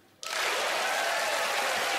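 A studio audience at a magic competition show bursts into applause, a sudden dense wash of clapping that starts abruptly and holds loud and steady to the end.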